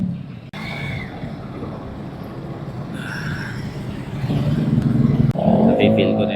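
Motorcycle with a loud aftermarket exhaust pipe, riding along at a steady rumble that swells louder toward the end, mixed with road and wind noise and brief voices.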